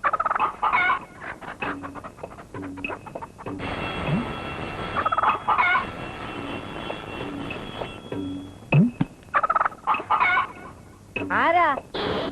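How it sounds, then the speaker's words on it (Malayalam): Chickens cluck and squawk repeatedly in a lively, uneven burst, with loud rising calls near the end and brief speech-like sounds in between. "ഓ, കോഴിയാണല്ലേ."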